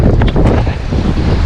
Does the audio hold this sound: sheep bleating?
no